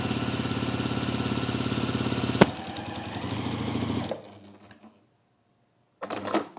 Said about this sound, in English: So now what we've got is this seam here, which is just easy to flip and then sew along the bottom of.